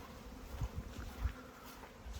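Honeybees buzzing as they fly around nucleus hives at an apiary, a steady outdoor hum with soft low bumps and a few louder passes, fairly quiet and with no talk.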